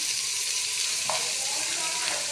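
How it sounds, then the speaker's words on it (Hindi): Masala and boiled black chickpeas roasting in a pan, a dense continuous sizzle up close with one or two faint stirring scrapes, no one speaking. "ये बस यहाँ पर मैं अपना मसाला और चने जो है वो अच्छे से भून लें"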